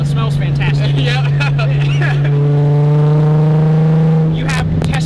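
Nissan 350Z drift car fitted with test pipes, its engine droning steadily at a held pitch from inside the cabin, rising slightly before easing off, with people talking over it.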